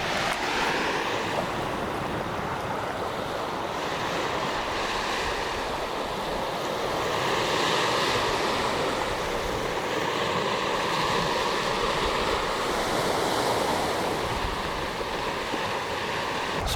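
Surf washes continuously onto the beach at Hopewell Rocks, a broad rolling roar with gentle swells in loudness, mixed with light wind and no voices.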